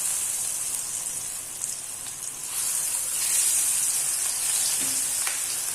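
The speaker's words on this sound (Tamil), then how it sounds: "பேனில் எண்ணெய் நல்லா காஞ்சிட்ருக்கு. காலிஃப்ளவர் எடுத்து அது கூட ஆட் பண்ணிக்கிறேன்." Cauliflower florets crackle and sizzle steadily in hot oil in a pan, a dense continuous frying hiss that swells slightly partway through, with no voices.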